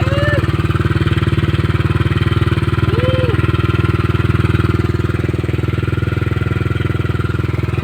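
A Yamaha Aerox 155 scooter engine idles steadily up close after a ticking noise was fixed, a low continuous rumble with a fast even pulse that holds for the whole stretch, with a faint brief chirp partway through.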